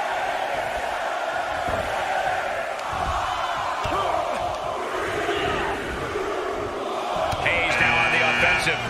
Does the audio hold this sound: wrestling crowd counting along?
yes